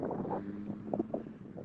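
A green Seat car passing at over 40 mph on a quiet night road. It comes through as a low, steady, distant engine hum with breezy, wind-like noise, faint and unaccompanied by voices.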